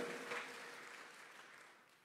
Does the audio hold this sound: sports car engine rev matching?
no